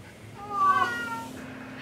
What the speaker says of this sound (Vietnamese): đây là chú mèo Big Girl của chị Bí Đỏ đây.